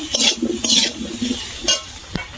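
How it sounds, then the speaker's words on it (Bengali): Taro and potato pieces frying in oil for a Bengali rohu fish curry, with a few bursts of stirring and scraping against the pan over a low, steady sizzle, close and fairly loud. "আমি ভালো করে সবজিটা ভেজে নেবো, কচু আর আলুটা"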